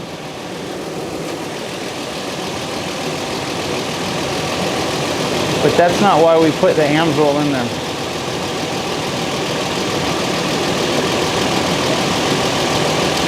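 The engine of a 2006 Toyota idles after an oil change, a steady close mechanical hum with light ticking, while someone talks briefly over it partway through.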